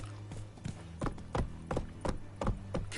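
Hooves of the horse in the video game Witcher 3 clip-clop in a quick, steady galloping rhythm of repeated thuds, moderately loud over a low ambient hum.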